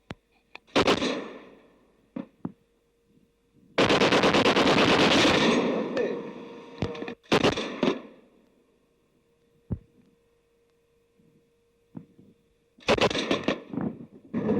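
Gunfire in a mine-warfare setting: a few sharp isolated shots and one longer burst of rapid fire, separated by quiet gaps, with a faint steady hum underneath.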